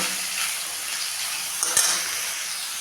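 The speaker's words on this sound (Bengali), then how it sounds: "এখন আমি এটাকে একটু ভেজে নেব" Small cut pieces of boneless chicken fry in a pan with a steady broadband sizzle, close and fairly loud, with a brief utensil scrape or clink near the end and no talking.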